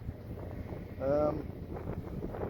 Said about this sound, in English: The wind's dropped a tiny bit, and it is starting to feel warmer.